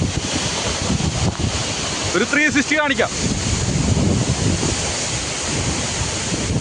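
Steady wind gusting at Aruvikuzhy waterfall, a broad continuous rush mixed with falling water, with a person speaking briefly in the middle.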